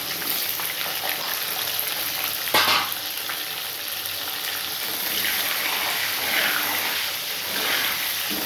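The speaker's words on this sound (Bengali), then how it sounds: "তেল গরম হয়ে গেছে, আলুটাকে ভেজে নিই" A large potato frying in hot oil for a chicken dish, giving a loud, continuous sizzle and crackle that runs the whole time with small bursts of spitting, close to the pan and without speech.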